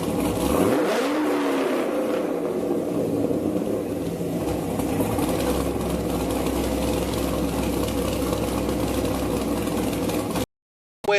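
A car engine with Jones Flowpack exhaust mufflers revs up sharply at the start, then holds a loud, rumbling exhaust drone that fades out abruptly near the end.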